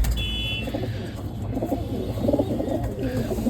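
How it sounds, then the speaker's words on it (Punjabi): Soft, low pigeon coos repeat in short throaty bursts over a steady background hum, with a brief high electronic beep early on. "ਆ ਸਾਡੀ ਮੇਨ ਵੱਡੀ ਆ ਕਬੂਤਰੀ"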